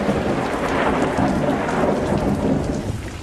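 A thunderstorm with steady heavy rain and low rumbling thunder, a dense, continuous wash of noise that stays loud throughout with no voices.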